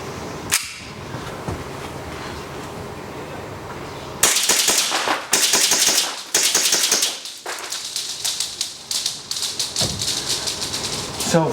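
A WE 1911 MEU green gas airsoft pistol fires a quick series of sharp, close cracks with an irregular rhythm, loud and dry, following a few quieter handling clicks.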